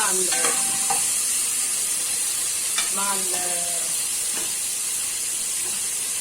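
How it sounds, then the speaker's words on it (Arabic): Blended tomato juice is poured into a hot frying pan with onions and stirred while cooking koshari, giving a steady loud sizzle and hiss throughout, with a few scraping stir strokes and faint clatter. "هنزل بالعصير الطماطم اللي احنا ضربناها"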